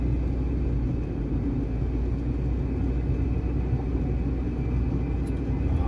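A 2003 Toyota RAV4 cruises in fourth gear at low revs, giving a steady, close engine and road rumble inside the cabin with no clear changes in pitch.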